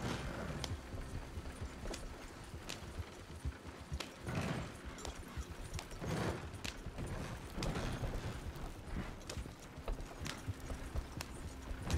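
Horse hooves clip-clopping in the video game Red Dead Redemption 2, a steady run of close hoofbeats over twelve seconds against ambient game sound, with no talk.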